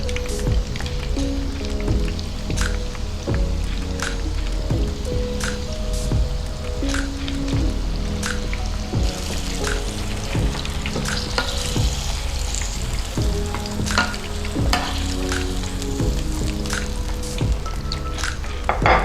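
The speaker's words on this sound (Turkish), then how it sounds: "Kalan karideslerim de yine aynı tencerede kızartmaya devam edeceğim." Steady, loud sizzling and crackling of panko-coated shrimp frying in hot oil in a pot, with occasional clinks of a utensil against the pot.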